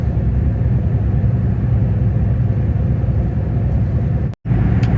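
A car drives through a 7.2 km toll tunnel, a steady loud low rumble of engine and road noise filling the enclosed space, broken by a brief dropout near the end.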